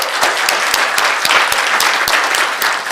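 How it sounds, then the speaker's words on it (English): Dense audience applause at a gaming convention panel, many hands clapping together in a loud, continuous wash that holds steady throughout. "Can we give a round of applause"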